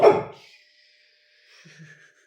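A single short dog bark rings out close by, followed by a faint whimper after a brief pause, with otherwise quiet surroundings.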